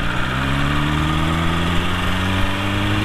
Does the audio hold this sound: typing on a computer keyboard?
no